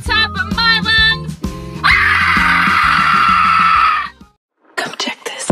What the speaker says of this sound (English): I scream at the top of my lungs.